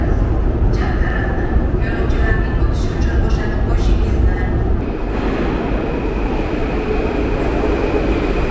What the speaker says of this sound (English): Our first subway metro ride here in Tashkent.